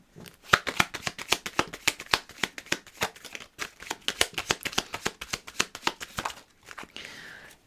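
Tarot cards are shuffled by hand in a long run of crisp, rapid riffling clicks at close range, pausing briefly near the end before a softer rustle.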